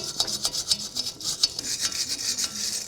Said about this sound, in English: give it a scrub until you've removed all of this corrosion